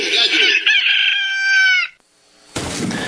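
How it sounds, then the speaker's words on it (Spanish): A loud rooster crow plays as a radio segment sound effect, one long drawn-out cock-a-doodle-doo with clucking at its start, then a brief silence before a burst of noise. "Y nos vamos al despertar del gallo."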